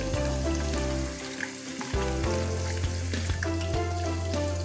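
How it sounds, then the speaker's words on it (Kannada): Onion frying in oil for homemade hair oil: a steady, close sizzle with a constant hum and occasional soft knocks, continuous and loud, with no voices. "ನಾನು ಡೈರೆಕ್ಟಾಗಿ ಆನಿಯನನ್ನೇ ಫ್ರೈ ಮಾಡ್ತಾ ಇದ್ದೀನಿ"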